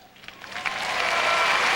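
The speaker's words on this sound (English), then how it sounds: "Standing ovation and knowledgeable crowd" A figure skating arena crowd breaks into applause for a standing ovation, building quickly from scattered claps into a dense, sustained roar of clapping.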